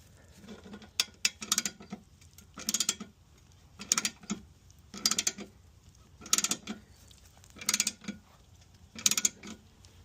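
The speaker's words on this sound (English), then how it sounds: "Then we can use the ratchet to get things going a little bit easier." Ratchet strokes crank up a low-entry road trip jack, each stroke a short cluster of crisp clicks repeating in a steady rhythm, close and moderately loud with no talking.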